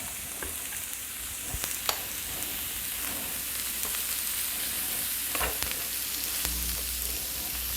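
Prime rib meat for a Philly steak and cheese sandwich fries on a griddle, giving a quiet, steady sizzle broken by scattered sharp pops and crackles, with no voices.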